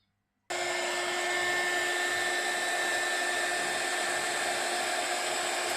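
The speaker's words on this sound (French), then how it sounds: "je vais mettre un petit coup de heat gun dessus pour voir le rendu que ça va me donner" A heat gun drying Distress Oxide watercolor paint on paper flowers switches on abruptly and blows a steady, loud, even whooshing hum for several seconds with no talk.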